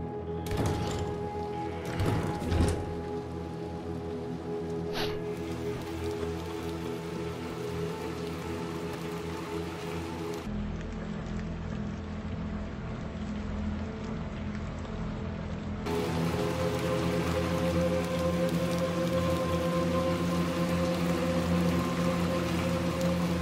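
Steady rain pours down in a Little Nightmares 2 scene, a dense continuous wash of drops on surfaces with a few sharper splashes early on and a slight swell in intensity near the end, with no voices over it.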